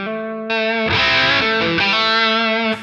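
Clean electric guitar notes and chords ring out clearly without overdrive from a Helix unit, with a single sustained tone followed by a louder strummed passage and ringing notes, with no voice.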